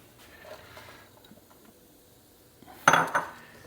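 Shredded cabbage coleslaw mix dropped into a pan of melted butter, a sudden loud clatter and rustling burst near the end after quiet kitchen background with faint clinks.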